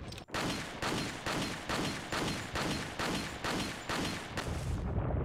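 Video game gunfire, a rapid run of about ten loud, evenly spaced shots, each with a booming tail, close and continuous with no talk over it.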